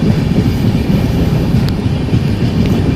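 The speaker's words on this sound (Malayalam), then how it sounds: "ഇതാ ട്രെയിൻ വീണ്ടും സൗത്ത് ഡയറക്ഷനിലേക്ക് നോർത്തിൽ നിന്നും കടന്നു വരുന്നു." A train passes close by in the southern Trivandrum area, a loud continuous low rumble of rolling wheels and carriages with faint metallic clicks, steady across the whole stretch.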